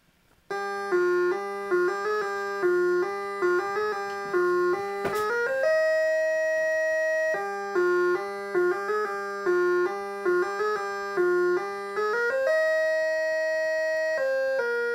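Chiptune music from Wheel of Fortune on the Game Boy plays as bright, square-wave melodic phrases in a repeating bouncy rhythm, with a brief blip effect partway through, clear and unaccompanied by talk.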